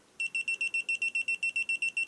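A GVDA GD166B clamp meter's non-contact voltage detector beeps rapidly and regularly at a high pitch, close up, about seven times per second without pause, detecting a live conductor.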